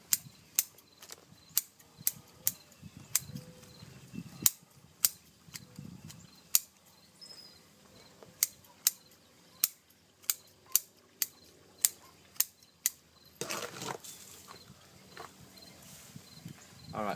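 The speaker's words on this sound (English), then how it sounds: "So keep your root shears sharp." Root shears trim the root tips of a bonsai, crisp metallic snips repeating roughly every half second to second, close and distinct, with soft handling rustles and faint speech between cuts.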